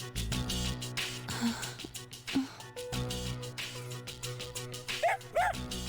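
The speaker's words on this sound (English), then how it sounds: "And woof woof to you too, doggo." Several short dog barks and yips from a video game, Persona 3 FES, spaced irregularly, over a steady musical background.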